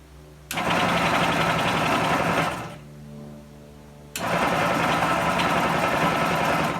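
A 1973 Yamaha AT3 motorcycle engine fires up on a makeshift starter button and runs with a buzzy, rapid idle, drops out briefly for about a second and a half, then catches again and keeps running loud and close.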